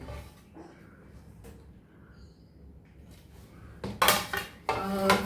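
Ceramic plates clink and clatter sharply in a D-Mart store, a few isolated knocks at first and then a louder close burst of rattling plates near the end.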